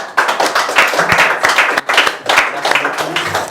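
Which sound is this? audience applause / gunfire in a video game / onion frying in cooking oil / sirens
audience applause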